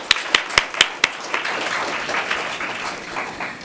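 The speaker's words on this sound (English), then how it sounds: "let's just give her and her team a round of applause" A conference audience at Loyola University claps for the event organizers, a few sharp close claps at first, then a dense, steady round of applause that gradually thins out.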